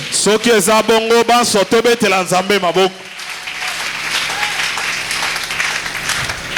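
A congregation in a church bursts into applause after a loud, emphatic voice addresses them, the clapping forming a broad, even wash that continues alone for several seconds.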